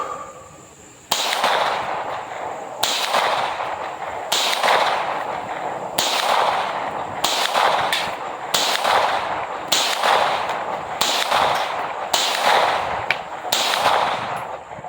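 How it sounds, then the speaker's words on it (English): Tisas 1911 DS Duty pistol fired without a compensator at an outdoor range, about ten loud sharp gunshots in slow, evenly spaced succession, each cracking report ringing out briefly before the next. "I'm going to go ahead now and try to shoot 10 rounds. It is going to be slow, controlled fire."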